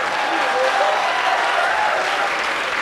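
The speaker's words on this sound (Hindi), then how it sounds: "हमारे दुख में तालियां बजाओ।" Steady, dense clapping from an audience at a comic poetry show, filling the whole moment at a loud, even level without a break.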